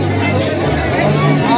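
Dense hubbub of a large crowd at a temple procession fair for a Chaiti Mela doli yatra in Kashipur, many overlapping voices forming a loud, steady babble throughout.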